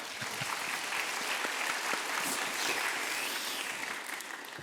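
Applause from a young adults' church gathering after the pastor mentions his wedding anniversary, a steady dense clapping from a roomful of people lasting several seconds at even loudness, with no voices over it.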